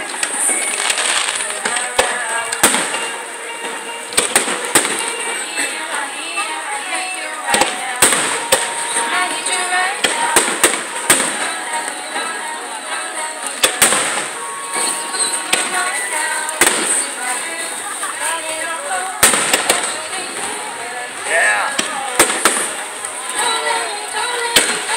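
Fireworks at the 2016 Sternwheel Festival in Marietta, Ohio burst and crackle continuously, with sharp loud bangs scattered throughout over a dense fizzing roar, heard from a distance amid crowd noise.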